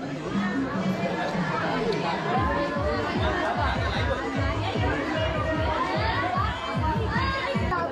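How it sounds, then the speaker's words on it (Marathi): A dense crowd chatters loudly and continuously at a village Shri Ram procession in Koproli, many overlapping voices close by, children's shouts mixed in, with a rhythmic low thumping running underneath throughout. "जसं जसं पुढे जातो ना तसे तशी अजून गर्दी वाढलेली आहे"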